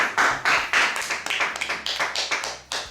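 A wedding congregation at a church ceremony applauding, with rhythmic group claps that are steady and close.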